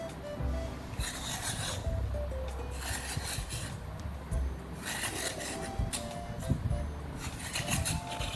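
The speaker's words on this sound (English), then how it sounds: "So just scrape off the skin" Snake gourd skin scraped with a knife in a kitchen, giving repeated short rasping strokes in bursts with brief pauses, close and moderately loud over a low background hum.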